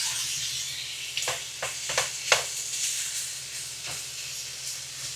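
Onions poured into a hot pan for cheesy Mexican rice and left frying, giving a steady close sizzle and hiss with a few sharp pops and crackles near the start.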